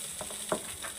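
Chili peppers and garlic fry in hot oil in a pan, a faint, steady sizzle broken by a few brief crackles and stirring scrapes.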